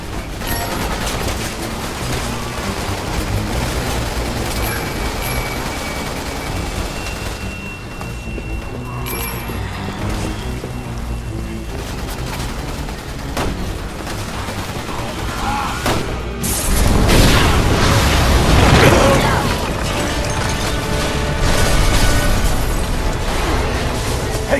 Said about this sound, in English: Shoot the gas! We can blow these things to kingdom come!